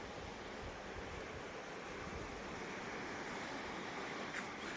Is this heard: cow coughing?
no